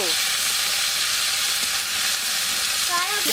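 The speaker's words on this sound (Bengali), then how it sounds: "আমি মাছ দিয়ে দিচ্ছি ভাজতে হবে পাকাল মাছ তো" Pakal (bam) fish frying in a pan of hot oil, giving a loud, steady, continuous sizzle with a brief voice near the end.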